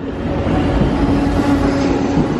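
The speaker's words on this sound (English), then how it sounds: "Our train has arrived." Amtrak Surfliner passenger train arriving at a station, a steady loud rumble of rolling rail cars with a faint wheel whine running throughout, no talking.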